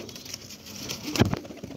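A pigeon coos briefly and softly near the end of a short stretch of quiet background.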